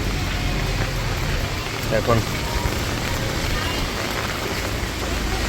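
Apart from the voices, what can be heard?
rain in a Dubai street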